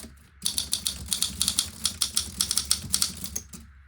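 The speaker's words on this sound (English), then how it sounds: "Silent return, and it's typing again." An Olympia SM3 manual typewriter types in a quick, even run of sharp key strikes, about a dozen crisp clacks close to the microphone against quiet surroundings.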